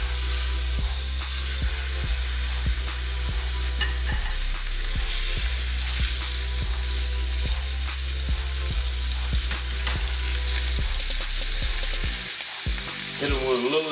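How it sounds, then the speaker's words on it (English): Catfish pan-searing in hot oil, with seasoning added: a loud, steady, continuous sizzle with occasional scraping and tapping in the pan, and no talking. "we're gonna pan fry these for about 3 minutes each side"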